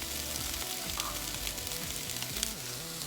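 A cup of brown rice sizzles and fries in a pan for chicken fried rice, a steady close crackle with faint stirring and scraping.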